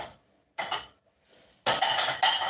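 Ceramic dishes clink and clatter in a home kitchen as a bowl is pulled out from among them, in two short bursts of knocking and scraping.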